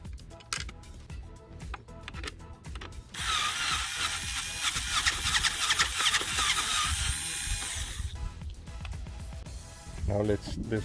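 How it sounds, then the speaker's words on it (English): A ratchet wrench loosens bolts on a KANIWABA pedal kit, giving quick close ratcheting clicks, then a long, dense, buzzing mechanical burst in the middle, with people speaking over parts of it. "Set loose the bolts."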